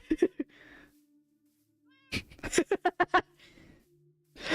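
Cats meow in short bursts, a couple of calls at the start and then a rapid string of close, fairly loud meows, with quiet gaps between.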